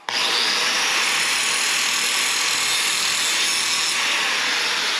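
An abrasive power tool grinds steadily and loudly for several seconds, removing mill scale from a steel door frame before welding.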